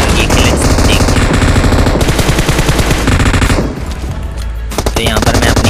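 Dense automatic gunfire from the PUBG Mobile battle royale game, loud sustained bursts with a brief dip in intensity before firing resumes, no speech.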